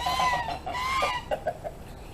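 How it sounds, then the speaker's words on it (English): A large Brahma rooster on a farm clucks in a quick series of short, close calls, with no talking. "The Brahma roosters grow till they're 18 months old."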